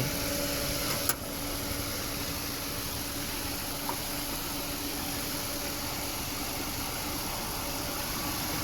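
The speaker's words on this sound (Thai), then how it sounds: "เสียงการทำงานของเครื่องยนต์ปกติทุกอย่าง" A Mazda Familia 1400 engine idles steadily with a faint, even hum and a low mechanical whir, heard alone with only a couple of small clicks.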